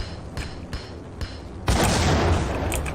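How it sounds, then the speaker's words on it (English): A grenade goes off in the video game Max Payne: a loud, broad roar bursts in suddenly and rumbles on to the end, after a few faint soft thumps. "Right, grenade."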